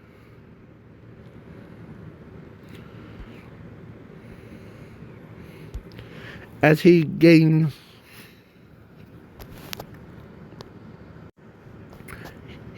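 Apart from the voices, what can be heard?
person blowing their nose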